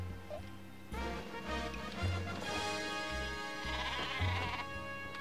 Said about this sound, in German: Soll ich das Schaf benutzen?